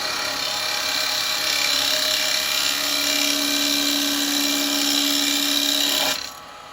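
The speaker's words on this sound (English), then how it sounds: "I normally come in this way and clean it off with my spindle gouge" A wood lathe spins a small wooden pendant as a spindle gouge cuts across its end, giving a loud continuous whirring drone with a steady tonal hum that stops abruptly near the end.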